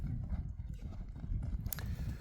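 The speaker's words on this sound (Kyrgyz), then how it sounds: "Апалуза издегендер болсо, достор, мына ушун Апалуза порода деп койгон, негизи чаар атты." Hooves of an Appaloosa horse, a spotted ambling riding horse, clip-clopping in a steady ambling rhythm, close and moderately loud over low rumbling background noise, with a brief sharp higher sound near the end.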